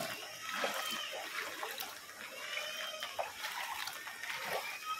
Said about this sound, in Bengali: কি বৃষ্টি, কি বৃষ্টি!